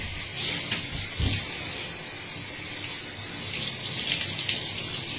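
Tap water runs steadily while hair is rinsed under it, a continuous close hiss and splash with a few brief splashy bursts and no talking.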